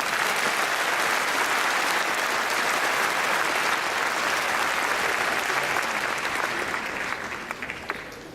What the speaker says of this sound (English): Give him a big applause.